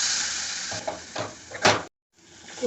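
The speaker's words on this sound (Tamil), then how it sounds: "எல்லாத்தையும் நல்லா வதக்குவோம்." Potatoes sautéed in a pan with chili powder and garam masala give a close, steady sizzle with a few stirring scrapes, a sharp burst near the end, then a brief silence before the frying resumes.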